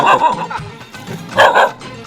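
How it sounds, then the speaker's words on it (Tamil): A dog barks sharply at the spot where a vehicle was parked outside a mango orchard, two loud bursts of yapping close by with a short pause between them. "நிப்பாட்டின இடத்துல ஒரு நாய் வந்து சரியாக அந்த குலைக்குதுங்க"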